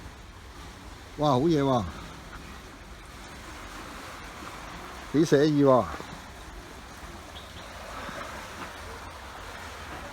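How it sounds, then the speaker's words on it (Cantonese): Sea surf washes steadily onto the shore at Sham Wat beach on Lantau Island, a soft continuous roar beneath two short bursts of excited talk. "呢個海邊嘅，定係海浪聲砰砰聲啊"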